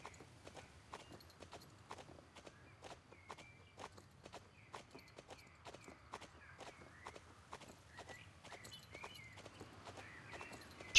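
A three-year-old Hanoverian mare trots over ground poles in a show arena, her hoofbeats landing as a steady, even run of crisp clip-clops, moderately close, with no talk over them.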